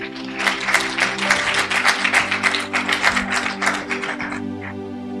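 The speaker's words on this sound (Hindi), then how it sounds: "आए अपने लिए जोरदार तालियां बजाएं" Church congregation clapping loudly during a Sunday sermon, rhythmic group claps in quick succession over a sustained organ or keyboard chord, tapering off near the end while the held tone continues.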